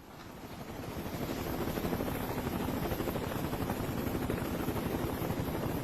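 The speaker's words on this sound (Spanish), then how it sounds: "Envíe los helicópteros. Díganles que empiecen a buscar al norte del aeropuerto." Search helicopters fly in a documentary reconstruction of a mountain air crash search near Kathmandu, a rapid rhythmic rotor chop with engine whine that swells in over the first seconds and then holds steady, with no talk.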